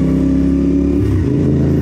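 A motorcycle engine revs loudly and close by, holding a steady, rough drone that rises and dips slightly in pitch across the short stretch, with no voices over it.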